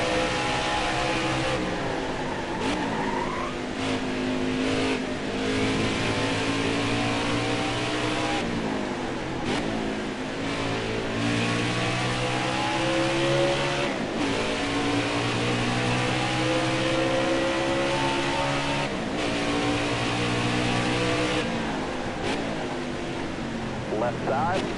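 A racing game car engine drones steadily throughout, its pitch rising and falling through repeated revs and gear shifts, loud and constant with no pauses.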